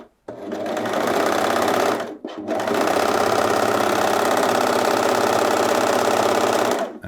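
A sewing machine stitches a rolled hem in embroidery thread at a short stitch length, a loud, fast, even mechanical whirr in two runs with a brief pause between them, close up.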